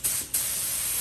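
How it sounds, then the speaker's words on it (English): A paint gun sprays detailer onto a UTV dashboard in two sharp, loud hissing bursts, with a short gap between them. "So I did spray quite a bit on the dashboard."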